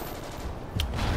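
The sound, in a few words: Remington R5 rifle gunfire in Call of Duty: Ghosts video game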